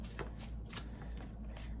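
A deck of cards is riffled and shuffled up close in quick, crisp bursts of flicking and slapping, repeated several times over a low background hum.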